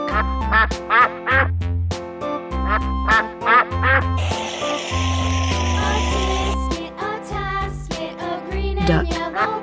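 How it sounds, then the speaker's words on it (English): Repeated loud duck quacks in bursts over a bouncy musical backing with low notes, like a children's song, with a jingly bright passage midway. "Duck."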